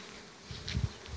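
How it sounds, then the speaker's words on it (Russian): Bees buzzing around the hives at an apiary, a faint low hum rising briefly in a short burst over quiet outdoor background. "Пчелы есть, и в принципе, ну, нормально, нормально."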